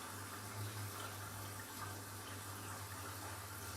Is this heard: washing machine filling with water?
yes